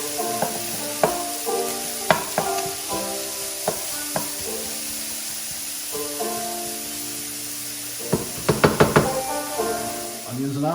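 Onions fry in a pan with a continuous soft sizzle, while steady background music plays and occasional sharp utensil knocks ring out, including a quick cluster of taps near the end.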